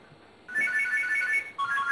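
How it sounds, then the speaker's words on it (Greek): A telephone ringing on a Greek game show, a loud electronic ringtone that starts abruptly after a quiet moment, warbles steadily, pauses briefly and rings again, with no talking. "Έχουμε τηλέφωνο όμως."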